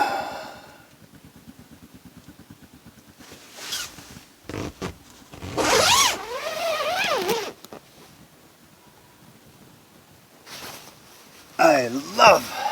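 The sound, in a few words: tent door zipper being unzipped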